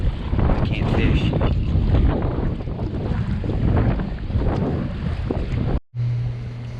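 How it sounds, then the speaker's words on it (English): Strong wind buffets the microphone in a continuous loud roar while kayaking on a lake below Center Hill Dam, with water lapping at the hull; the gusts cut out abruptly near the end, leaving a low steady hum. "The wind is too much."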